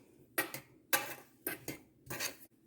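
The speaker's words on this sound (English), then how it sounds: "I'm gonna start stirring" Four sharp scraping clinks of a utensil against a pot while cheesecake mixture is stirred, spaced about half a second apart, close and fairly quiet, no voices.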